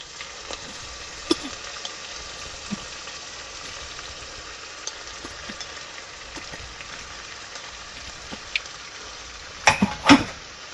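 Chicken keema mince fries with browned onions in a pan, a steady soft sizzle throughout with occasional faint stirring clicks and a couple of louder scrapes near the end, no talk.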